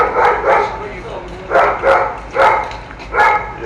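Several dogs bark in repeated short bursts, fairly loud and close, in paired yaps spaced about a second apart, with some whimpering tones mixed in; no one speaks.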